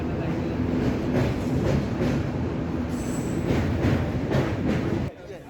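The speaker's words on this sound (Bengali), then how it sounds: "মাঝে মাঝে স্টেশনে ট্রেন থামছে, যাত্রীদের তুলে নিয়ে আবার ছেড়ে যাচ্ছে তার গন্তব্যের দিকে" A local train running from Howrah toward Digha, rolling loudly and steadily with wheel squeal, rhythmic clatter and faint voices, before the noise suddenly drops near the end.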